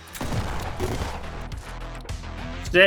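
Gunfire from a custom gun in the top-down roguelike shooter Flashes of Chaos, a run of sharp shots with a loud blast near the end, mixed with game sounds.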